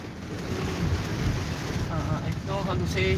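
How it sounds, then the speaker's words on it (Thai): Heavy rain in Singapore heard from inside a moving taxi, a dense, steady roar of downpour and road noise filling the whole stretch, with faint tonal beeps near the end. "ฝนตกหนักก็เลยถ่ายภาพบรรยากาศฝนในสิงคโปร์ให้ดูนะครับ"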